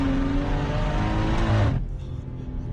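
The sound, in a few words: BMW M240i with external wastegate accelerating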